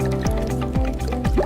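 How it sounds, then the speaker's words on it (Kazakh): Cartoon sound of water poured from a can onto a flower, a bright, loud liquid gurgle with three quick rising glugs in a row. "міне былай су құямыз"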